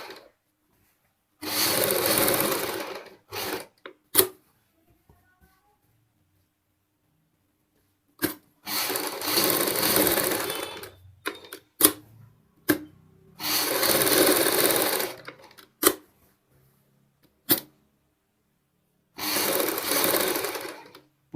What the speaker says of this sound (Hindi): इसी प्रकार हमने बुकरम के साथ साथ सिलाई लगानी है।